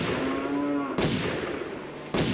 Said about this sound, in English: That was a cow mooing.